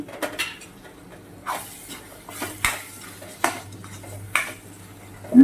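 Fried baby potatoes clatter into a pan for Kathiyawadi dhaba-style dum aloo, followed by a spoon scraping and stirring against the metal with a soft sizzle underneath, in bursts of clinks and scrapes with a louder knock at the end.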